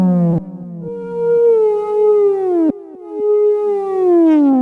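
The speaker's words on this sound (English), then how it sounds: "as the note decays, the pitch of the guitar goes down, which is a little weird" Electric guitar notes routed through a Korg MS-03 pitch-to-CV processor driving a synth, each note sounding as a bright harmonic tone whose pitch slides downward as it decays, with a few plucked attacks and no talking.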